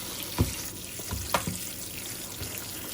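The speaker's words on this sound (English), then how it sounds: "Take your sprayer, move your meat around, wash that grease off." A sink sprayer rinsing browned ground chuck in a pot, giving steady hissing water spray with a few splashes and clinks of the meat being moved around.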